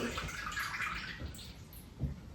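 Water poured out of a vessel while rinsing butter for ghee in a home kitchen: a steady splashing, trickling flow that runs for a couple of seconds, ending in a small thud.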